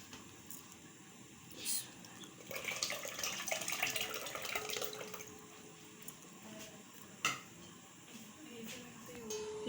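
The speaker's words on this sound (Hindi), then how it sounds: "अब ये जो है 1 लीटर जो दूध है हम इस देचकी में शामिल करेंगे।" One litre of milk poured into a large cooking pot while making lassi, a soft liquid pouring and gurgling sound that swells in the middle and fades, close and fairly quiet, with a sharp knock near the end.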